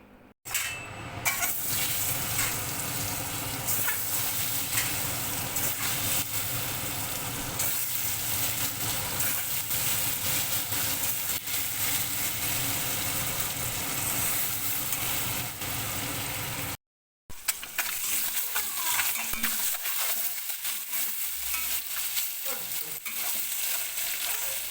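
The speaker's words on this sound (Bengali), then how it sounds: "এবার কড়াইতে তেল আর একটু নুন আর হলুদ দিলাম ডিমটাকে ভাজার জন্য।" Boiled eggs fry in a kadai of hot oil with salt and turmeric, giving a loud, continuous close-up sizzle with stirring, briefly cut off midway before resuming.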